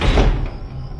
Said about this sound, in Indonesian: pintu ruangan itu tertutup dan terbuka dengan sendirinya, seperti ada yang memainkannya.